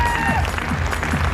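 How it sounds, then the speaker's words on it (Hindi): Audience applause for a team at a success seminar, a dense, steady patter of clapping throughout the short stretch. "एक जोरदार वाली ताली बजनी चाहिए"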